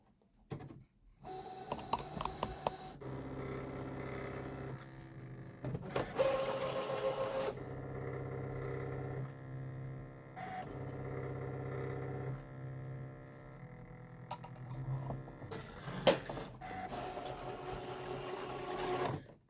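A computerized cutting or embroidery machine runs a test cut on fabric for a Kimberbell Mistletoe Mystery Quilt block, whirring and clicking in steady mechanical bursts with short pauses between, close and alone.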